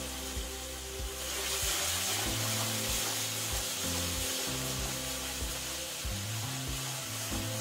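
Roasted semolina sizzles and fries in a pan with added mango pulp for mango halwa, a steady close crackle under repeated low rhythmic scraping and stirring knocks, with no talking.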